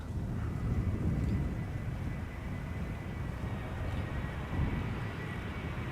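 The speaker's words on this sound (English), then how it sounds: "This is Lufthansa Flight 988, arriving from Frankfurt. Regular A320" A Lufthansa Airbus A320 on arrival from Frankfurt lands at Schiphol's Polderbaan runway on a hot, sunny day. A low, steady jet rumble fills the air with some wind buffeting, moderately distant, and no voices.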